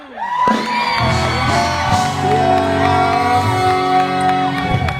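Concert audience cheering, whooping and shouting to welcome a band on stage, a loud continuous crowd roar with a held musical tone underneath.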